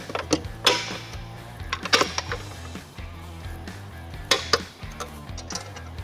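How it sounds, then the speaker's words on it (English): Metal clinks, taps and scrapes come from fitting carriage bolts into the body of a Thule Double Track Pro XT bike rack, with several sharp knocks and rattles at irregular intervals, close and fairly quiet, with no talk. "line up the holes, and affix with the final 2 carriage bolts"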